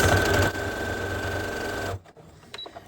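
A home sewing machine stitches quilting lines across a zipper pouch, a steady fast motor hum and needle rattle running loud for about two seconds before stopping, then a few faint clicks and handling sounds.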